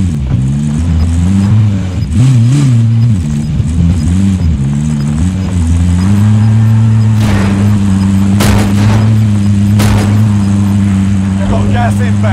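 A car engine hums steadily while driving in the Call of Duty Warzone video game, its pitch wavering as it accelerates, with game effects and occasional talk over it.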